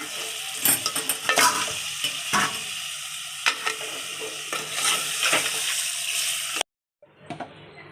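Chicken sizzles with spices in a hot pan while a spoon scrapes and stirs in repeated strokes; the sizzle cuts off abruptly near the end.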